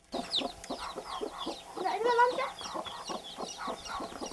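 Several chickens cluck busily close by, overlapping in a steady, chattering stream of short calls.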